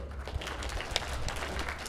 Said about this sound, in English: Round of applause to her